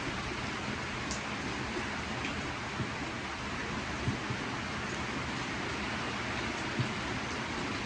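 Steady rain falling outdoors at home, a dense even hiss with occasional sharper drop ticks, constant throughout and no voices.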